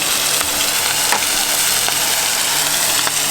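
Beans frying in a pan during a homemade gnocchi cook-up in a ute: a steady, loud sizzle fills the whole stretch, with faint stirring scrapes and no talking.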